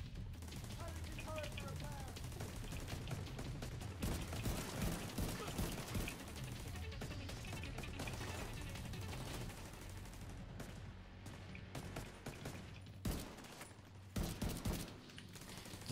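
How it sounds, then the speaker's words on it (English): Automated turret fires steadily in the video game The Division 2, a dense rattling stream of rapid gunshots running loud and continuous under game sounds, with players talking over it. "I've just got my turret shooting off his gun."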